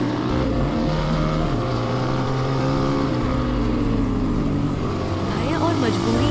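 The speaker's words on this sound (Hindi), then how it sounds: "आरव अपनी बाइक स्टार्ट करता है, इंजन की आवाज सन्नाटे को चीरती है।" A motorbike engine starts up and runs steadily with a continuous low rumble and droning hum, loud and close, filling a quiet night scene without pause.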